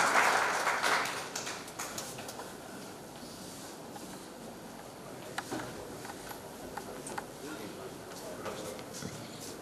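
Audience applause at a college alumni meet, a burst of clapping strongest in the opening two seconds, then thinning to scattered claps under crowd murmur.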